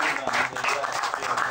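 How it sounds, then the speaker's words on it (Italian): Audience applause at an award ceremony for an eleventh-edition prize presentation, steady dense clapping throughout with a voice faintly under it. "Un applauso."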